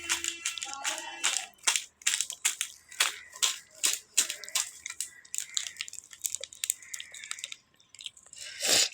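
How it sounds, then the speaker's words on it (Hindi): A child chewing and biting into snack food with his teeth, giving close, irregular crunchy and squishy bites that run steadily with short pauses. "अभी ये दांतों से चबा रहा है और आवाज़ भी आ रही है"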